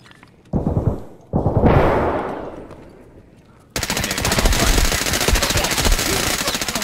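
MPX gunfire in the video game Escape from Tarkov: a couple of loud bursts, then a sustained stream of rapid automatic shots, close and dominant with no talking over it.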